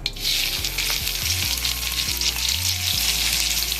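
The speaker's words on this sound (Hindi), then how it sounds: "तेल गरम हो चुका है और जीरा भी उफलने लगा है। तो इसमें हम अभी प्याज डालेंगे।" Onions frying in hot oil with cumin seeds, a loud, continuous close sizzle with bright crackling, while low background hum and occasional soft knocks run beneath.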